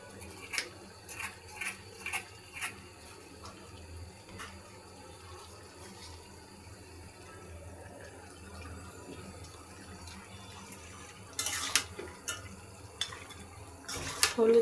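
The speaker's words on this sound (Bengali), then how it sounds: "এখন নেড়ে নিচ্ছি।" A spoon stirs mutton curry seasoned with turmeric and salt in a cooking pot, giving scattered clinks and scrapes against the metal over a low background, with a few sharper knocks near the end.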